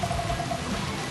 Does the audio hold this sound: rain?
yes